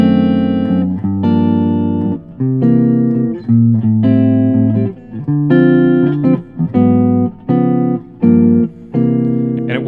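Jazz chords with a chromatic two-five substitution, likely on piano, played as a sequence of sustained, close, full voicings that change every beat or two in steady time; no talking.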